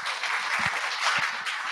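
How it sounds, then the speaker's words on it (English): Brief audience applause at a 1 Million Cups Little Rock startup pitch event, a steady patter of many hands clapping, moderately loud and close, with no speech over it. "Let's give him a round of applause."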